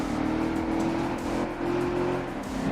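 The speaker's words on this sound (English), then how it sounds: "All I hear is the rolling resistance of the tires, the boost, and the occasional like opponent car." Race car in the FlatOut 2 video game, tyres rolling with a droning turbo-boosted engine; a steady, loud mechanical hum with a sustained whine and faint shifting rumbles, continuous and close, no speech.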